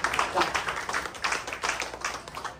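A church congregation at a Sunday service claps in a steady, fairly even rhythm, with many hands together under a faint murmur of voices.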